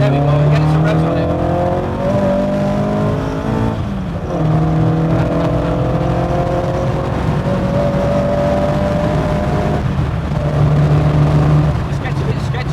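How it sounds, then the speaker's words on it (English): A Ford Anglia fitted with a Pinto engine revs hard and loud, pitch rising and falling through several climbs with a brief dip near the four-second mark, while people talk over it. "you're getting some revs on it"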